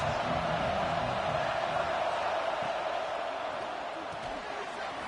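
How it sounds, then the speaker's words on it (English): A large stadium crowd at a college football game roars steadily as a dense, continuous wash of noise with no break, loud and close, with commentary voices mixed in. "The roar of the crowd trying to fuel this defense to keep them pinned in their own end."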